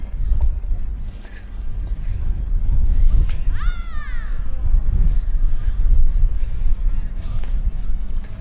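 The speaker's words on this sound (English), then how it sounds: "Bloody hell, it's windy down here." Gusty wind at Stratford buffets the microphone with a rough, fluctuating roar, with brief creaks and clatter mixed in.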